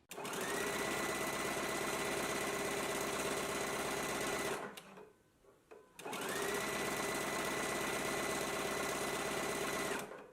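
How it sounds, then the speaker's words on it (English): A sewing machine runs steadily, stitching a zigzag along the side seams of a garment, loud and close, with a brief pause midway before it resumes at an even pace. "I am going to use a zigzag stitch for the side seams. Let's go ahead and stitch them in place now."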